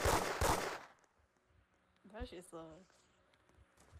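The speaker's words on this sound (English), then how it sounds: "This fucking gun violence is unreal." Two sharp gunshot bursts crack out at the start of a Roblox-style shooter game set in Da Hood, loud and close, followed by quieter background game noise and a short stretch of speech.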